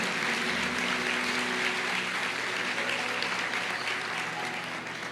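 A congregation claps continuously in a large church, a dense, steady wash of applause with no pauses.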